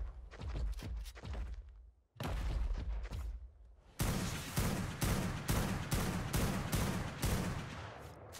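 Gunfire in the ARK survival game during a fight with a wild Rex: rapid bursts of loud, close shots, first a scattered volley, a brief pause, then a steady run of evenly spaced heavy reports.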